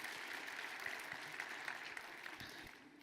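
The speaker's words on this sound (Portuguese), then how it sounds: "Você pode dar um glória a Deus ao Senhor, aplaudir." Church congregation applauding during a worship service, a continuous, even wash of many hands clapping together, heard at moderate distance and fairly soft throughout.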